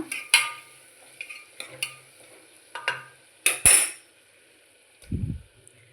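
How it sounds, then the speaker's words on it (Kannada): Onions fry in a pan toward golden brown, a faint sizzle broken by several sharp clinks and scrapes of a spatula on metal, then a low thud near the end. "ಈರುಳ್ಳಿ ಸ್ವಲ್ಪ ಗೋಲ್ಡನ್ ಬ್ರೌನ್ ಆಗೋವರೆಗೂ, ಟ್ರಾನ್ಸ್ಪರೆಂಟ್ ಆಗಬೇಕು, ಆ ಥರ ಸ್ವಲ್ಪ ಹೊತ್ತು ಫ್ರೈ ಮಾಡೋಣ."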